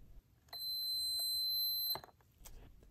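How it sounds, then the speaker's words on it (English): A faulty Black and Decker cordless reciprocating saw gives off a single sustained electronic beep tone when its trigger is pressed. The high, piercing tone lasts about a second and a half between quieter handling noises. "When I press the trigger, there's like a beep or a tone sound"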